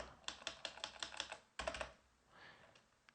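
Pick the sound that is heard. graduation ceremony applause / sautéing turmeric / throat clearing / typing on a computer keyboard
typing on a computer keyboard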